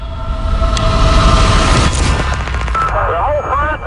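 From an archival news recording of a federal building bombing, a loud, sustained explosion rumble booms and crackles for several seconds, followed by faint broken sounds as it dies away.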